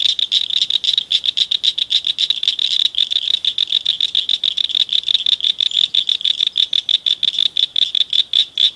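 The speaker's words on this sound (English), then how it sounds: "All sorts of froggies over here now." Frogs croak inside a tunnel in a rapid, unbroken train of loud rattling calls that pulse evenly throughout, close and echoing, with no voices.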